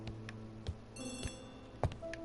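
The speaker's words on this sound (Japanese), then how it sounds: "電話だ。 電話に出なければ。" A telephone rings in short, faint bell bursts over soft ambient music in a mystery adventure game, several rings across a brief moment.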